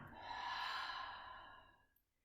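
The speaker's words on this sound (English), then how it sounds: "And inhale up and exhale down." A long, breathy exhale during a gentle seated yoga movement, swelling and then fading softly over about two seconds, heard alone and close.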